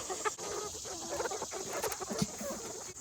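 Young chickens in a chicken tractor on a small farm cluck softly and intermittently, with a few louder calls rising over a steady outdoor background.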